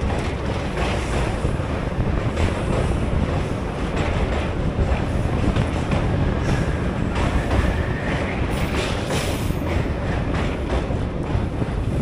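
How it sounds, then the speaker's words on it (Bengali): Passenger train running between Rampurhat and Sainthia Junction, a loud steady rumble of wheels and carriage noise with wind buffeting the microphone, continuous and close. "রামপুরহাট থেকে 27 কিলোমিটার ডিস্টেন্স কভার করার পর আমাদের ট্রেন এসে পৌঁছালো সাঁইথিয়া জংশনে।"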